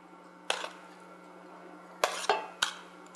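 Chopped onion goes into a frying pan, with a few close clinks and clatters of utensils against the pan spaced over a quiet kitchen hum.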